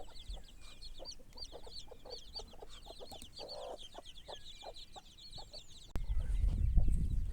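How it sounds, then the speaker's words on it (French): Hens clucking in short, soft bursts with faint high chirping of chicks throughout in a small farm enclosure, then a louder rustling thump near the end. "c'est le petit enclos où on met les poules avec leurs poussins"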